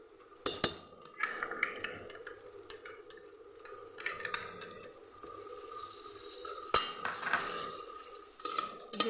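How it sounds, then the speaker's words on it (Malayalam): A ground roasted gram paste is stirred into a restaurant-style chicken curry in a pan, giving a steady wet scraping and sloshing with a few sharper knocks of the spoon against the pan. No one speaks. "ഇതൊരു പച്ചച്ചോയ മാറുന്ന വരെ ഇളക്കി കൊടുക്കാം."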